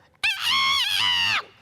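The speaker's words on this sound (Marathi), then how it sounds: "तो कोंबडा आरवायचाच." A single loud rooster crow rings out close by, one long drawn-out call with a short rise at the start and a steady held tone, alone with no talk.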